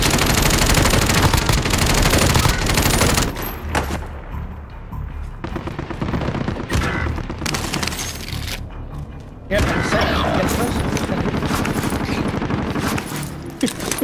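Bursts of automatic gunfire and explosions in a Call of Duty Warzone match on Rebirth Island, loud and dense through the first few seconds, then sporadic shots and a renewed barrage, with a player talking over it.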